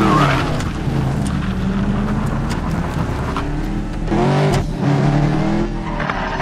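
A car in Medal of Honor: Warfighter, set in Dubai, drives past with a loud sustained engine drone whose pitch sweeps as it passes, swelling again partway through, close and without talk.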